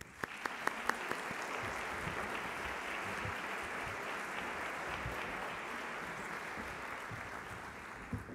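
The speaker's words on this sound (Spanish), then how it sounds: "vamos a saludar con un aplauso además a la dueña de casa" An audience at a Universidad de Chile launch event welcomes the rector with steady, sustained applause, heard faint and distant as an even wash of clapping with no talk.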